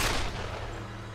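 A burst of gunfire in the Tomb Raider video game hits hard at the start, then its rumble fades into a steady low wash with no voices.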